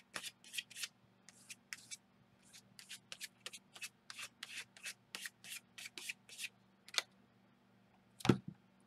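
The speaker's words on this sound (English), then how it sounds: "scrape some paint" Paint scraped across a page in an art journal, a series of short dry rasping strokes in quick irregular bursts, close and fairly quiet, with one louder stroke near the end.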